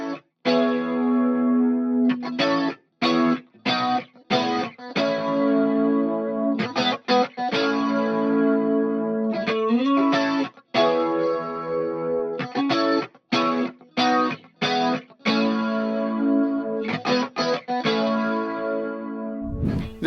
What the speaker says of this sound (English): This rhythm tone is really quite prominent across the balance of the track.